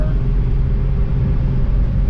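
A 1972 Ford Mustang Mach 1 with a rebuilt 351 V8 runs steadily, a loud, dense low rumble with no clear revving, heard from inside or close to the car for about two seconds.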